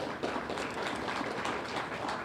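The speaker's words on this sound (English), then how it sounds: "I believe they deserve tremendous applause." Audience at a credit union delegates' gathering breaking into applause, a steady wash of clapping hands that stays fairly faint and even for a couple of seconds.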